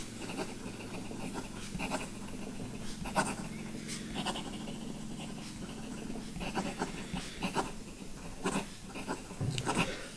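A Baoer 79 fountain pen, a Montblanc Starwalker clone with a wet ink flow, writing quickly on paper, making soft continuous scratching strokes with small nib taps, close and quiet, with no talking.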